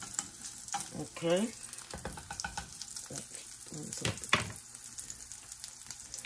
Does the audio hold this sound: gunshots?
no